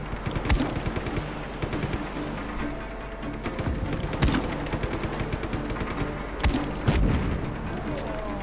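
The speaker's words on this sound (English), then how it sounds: "No, that's a grenade launcher." A grenade launcher fires during combat in Just Cause 3: rapid, punchy bursts of shots and thumps overlap in dense volleys, with louder booms now and then against ongoing battle noise.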